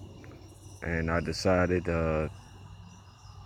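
Crickets chirp at night as a steady, faint high-pitched trill running through the whole stretch, partly beneath a person talking in the foreground.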